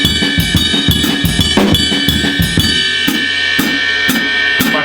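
A drum kit plays a groove in triple meter with steady hi-hat quarter notes over kick and snare hits, loud and close, with cymbal washes ringing throughout and no talking.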